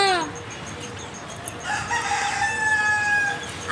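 Rooster crowing at feeding time among farmyard chickens, one clear crow near the start followed by a second longer crow, with a soft background cluck and bustle.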